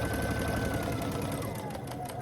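A sewing machine stitches a seam across quilt half-square triangles, running in a fast, steady mechanical whir with rapid needle ticks, close and continuous without any talking.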